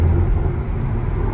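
A Chevrolet Corvette 2LT's LS3 V8 cruising at 70 mph and about 1600 rpm on rough concrete interstate in Tucson gives a steady, loud low engine drone mixed with road and tyre roar, continuous throughout with no talking.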